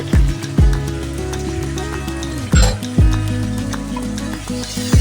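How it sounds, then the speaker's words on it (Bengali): Chicken with dissolved cornflour being stirred in a hot frying pan, a steady sizzle broken by several loud scraping strokes of the spoon across the pan at irregular intervals. "খুব সুন্দর করে এখন আমি এটাকে নেড়ে চেড়ে নামিয়ে ফেলবো"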